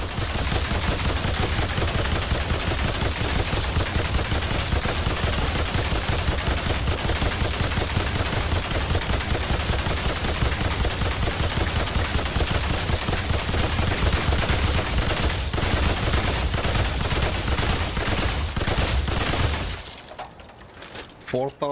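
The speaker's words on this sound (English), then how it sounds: "Shots." Rapid, relentless gunfire from Remnant 2 hammers away loud and close for about twenty seconds, shots packed densely like automatic bursts, then cuts off abruptly near the end.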